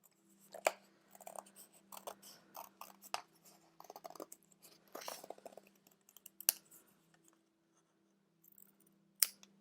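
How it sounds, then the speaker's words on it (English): Scissors snip out a small paper shape at a craft table, a run of short crisp cuts and rustles with pauses, then a couple of sharper clicks near the end, close and fairly quiet. "with my scissors, I'm just going to cut out that smaller one"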